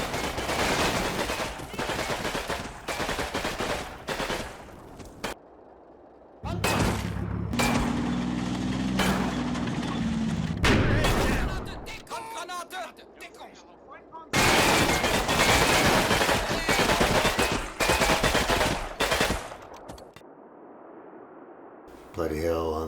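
Gunfire in the Combat Mission Battle for Normandy video game, in bursts of rapid shots and fusillades from a squad firefight. The bursts are separated by short gaps, with a low rumble midway.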